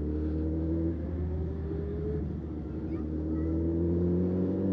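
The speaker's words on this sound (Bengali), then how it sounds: "এতগুলো বাইক যাচ্ছে না, অনেক আওয়াজ হচ্ছে।" Loud superbikes passing and revving, a close, continuous engine drone with rising and falling pitch sweeps as the bikes accelerate, with a slight dip midway before the roar builds again.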